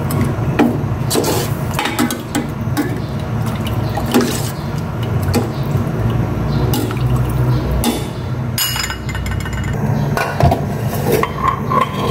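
Water pours steadily into a metal pot of seasoned pork for chicken soup for several seconds, a continuous splashing rush with occasional clinks of cookware.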